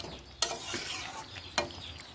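A spoon stirs chicken kosa in a cooking pot over low flame, giving two sharp scraping strokes against the pot above a soft continuous sizzle, close and with no talk.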